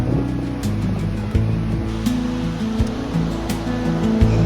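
Big ocean waves in Cabarete roar as a loud, continuous wash of surf, with rumbling low churn and occasional splashy bursts, close by and unbroken, with no talk.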